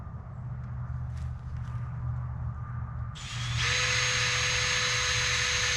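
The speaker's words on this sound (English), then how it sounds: "Drill it into this one." A power drill driving screws into a garden trellis whirs up after a few seconds of low background rumble and keeps running in a steady, loud, high whine until the end.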